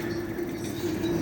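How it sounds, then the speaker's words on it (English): A Brooklyn-to-Queens subway train rolls past on the tracks in Ridgewood, Queens, New York, a steady rumble with a faint rail hum, heard outdoors at a moderate distance. "there it goes. The Brooklyn to Queens train."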